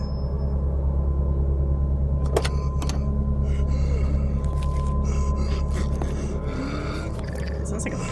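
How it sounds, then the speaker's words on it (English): A breathing-like creature sound from the video game Control rasps over a steady low droning rumble, with sharp bursts of game noise scattered through it. "Sounds like a person breathing, not a deer."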